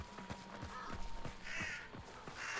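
Crows cawing in Hunt: Showdown, a quick run of several harsh calls in a row, faint and somewhat distant, heard alone without voices.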